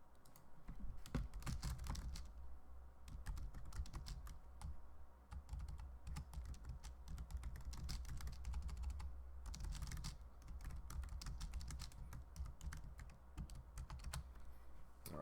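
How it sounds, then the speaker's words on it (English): Rapid typing on a computer keyboard with the mic placed right beside it, a steady close stream of crisp key clicks lasting throughout with brief pauses and no talk. "y'all can hear the typing really clear, and that's because the mic is right next to it"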